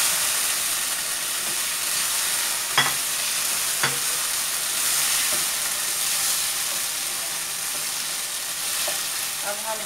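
Ginger, garlic and chopped tomatoes frying in a pan, a steady close sizzle and hiss with a few sharp clinks of a utensil stirring against the metal.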